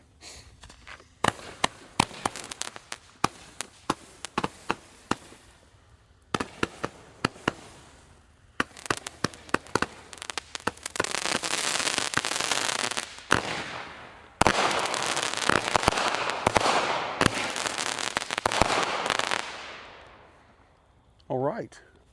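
A Cutting Edge Killer Panda firework cake fires its 50 shots in rapid bursts of loud, sharp cracks and booms, with short pauses between volleys before a dense crackling finale that quickly fades out.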